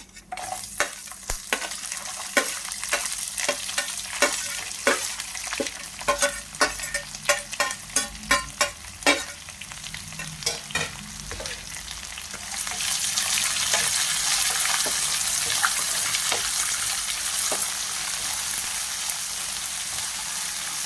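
Chopped onions hit hot oil in a pan for a Kannada-style avarekalu chitranna and start frying, with a spoon stirring in quick clicking strokes before a steady, loud hiss of frying takes over.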